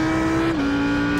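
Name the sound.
Audi R8 GT3 engine accelerating at Imola, racing video game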